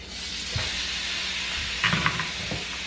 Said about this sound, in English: I love the sizzle sound.